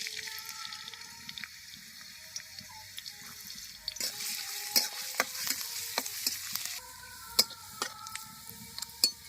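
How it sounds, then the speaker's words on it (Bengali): Chopped garlic fries in oil in a kadai for masoor dal, quiet sizzling punctuated by sharp metallic stirring clicks and scrapes that grow busier in the second half, close and without speech. "কড়ার মধ্যে তেল দিয়ে দেব রসুন কুচি দিয়ে দেবো"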